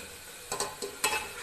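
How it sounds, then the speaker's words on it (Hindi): Frying masala for a bottle gourd curry stirred in the pan, a low steady sizzle with a few quick spoon scrapes close by, no voices. "और इसे बीच बीच में अच्छे से चलाते रहना है, मसाला नीचे पकड़े ना"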